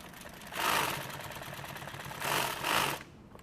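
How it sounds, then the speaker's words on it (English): Sewing machine stitching a line through nylon tactical gear, two bursts of fast mechanical whirring at close range, the first around one second long and the second slightly longer, with no talk. "I'm just going to run a stitch line through the middle of this."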